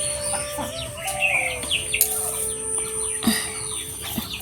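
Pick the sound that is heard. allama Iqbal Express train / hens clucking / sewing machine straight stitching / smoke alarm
hens clucking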